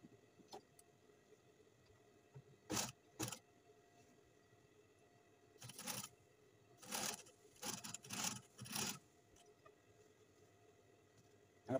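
A sewing machine stitches a hidden button placket in several short bursts of running, separated by quiet pauses, close by and moderately loud.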